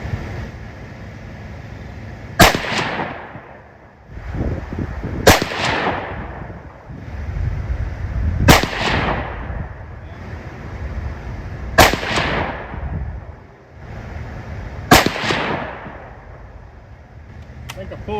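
Rifle fire from .223 handloads loaded with AA2520 powder, shot outdoors: five loud, sharp reports, each ringing off and decaying, evenly spaced about three seconds apart over low background rumble.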